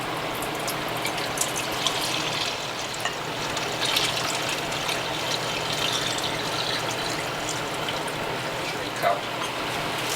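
Watermelon rind and reprocessed pulp juice poured steadily into a container, a continuous liquid gush and splash running throughout at close range.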